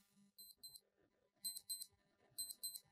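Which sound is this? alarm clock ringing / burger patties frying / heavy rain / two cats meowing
alarm clock ringing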